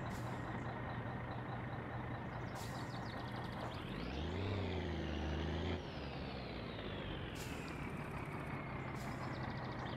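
A truck reverses in the video game My Summer Car: a steady diesel engine drone rises in pitch as it backs up, then drops back to idle, with short hissing bursts, and no talk is heard.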